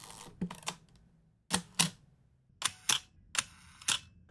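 Contax T3 compact film camera shutter firing in repeated sharp mechanical clicks, heard as close pairs at roughly quarter-second spacing, four bursts in all, each crisp and near with quiet gaps between.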